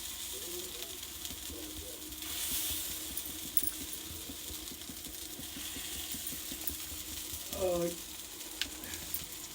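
Vadas frying in hot oil at home, giving a steady sizzle with light stirring and clinking utensil sounds mixed in, and a few short vocal bits over it.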